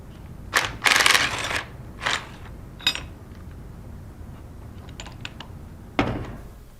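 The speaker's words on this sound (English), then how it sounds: "Today we're going to use a 3/8 impact gun just for ease of disassembly and reassembly" A 3/8 inch impact gun loosening fasteners on the discharge manifold of a Versamatic clamped metal pump, with short, loud rattling bursts separated by quieter clicks and handling noise of parts.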